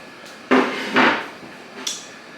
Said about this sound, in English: While the onions were caramelizing, I cut my zucchini